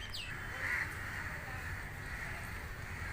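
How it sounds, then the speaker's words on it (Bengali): Crows caw over food in hot, shaded outdoor surroundings, a single harsh call rising briefly above a steady wash of background noise, faint and at some distance. "দেখো কাকেদের বোধহয় মারামারি লেগেছে, খাবার নিয়েই বোধহয় লেগেছে, শুনতে পাচ্ছ?"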